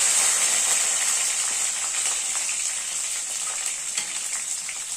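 Garlic sizzles and crackles steadily in hot oil with mustard, cumin and fenugreek seeds, a dense, close frying hiss that fades slightly over time, with no talking.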